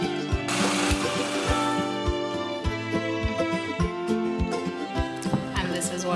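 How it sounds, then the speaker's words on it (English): A blender whirs through a gravy of grated cheese cubes, cream and maida, its motor drone running continuously with regular low thumping pulses, loud and close. "Now just blend all of this together."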